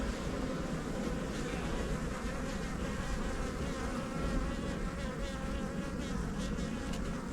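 Honeybee colony buzzing at the hive entrance during an inspection after a swarm, a dense, steady, close drone of many bees that continues without a break.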